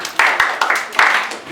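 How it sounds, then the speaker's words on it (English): A classroom of physics students clapping for a classmate, several sharp irregular claps at close range with a steady hiss of room noise underneath. "Okay, clap for him."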